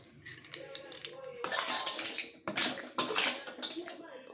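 Stir-fried clams in roasted chili paste are scooped from the pan onto a serving plate with rapid clinks and scrapes of a metal utensil, growing busier midway, with a voice now and then.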